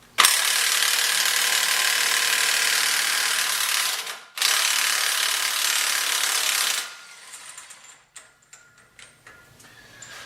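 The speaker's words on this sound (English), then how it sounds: "Let's see if we can get that axle nut off." Ratchet working on the axle nut of a 2008 Ford Escape, two long bursts of fast, loud, buzzing clicks with a short break between, then scattered quieter clicks and taps.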